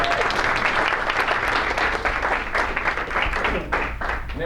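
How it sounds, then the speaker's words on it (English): A business seminar audience gives Dan a loud round of applause, with dense, continuous clapping at a full, even level throughout. "Give Dan a big hand clap one more again."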